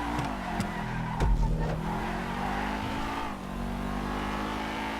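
Video game race cars, including a Chameleon, a Massacro and a GT, roaring around a tight track: loud engine drone with rising revs, shifting pitch and a short burst of tire squeal.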